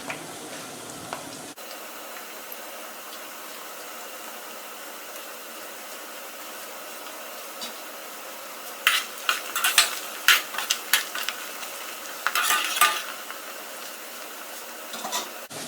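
Onion frying in a pan for shahi haleem, a steady low sizzle running throughout, with louder bursts of stirring and utensil scrapes in the second half; no talking.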